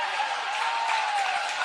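A stadium crowd at the Australian Athletics Championships applauds and cheers a race winner, a steady broad roar of clapping with no gaps.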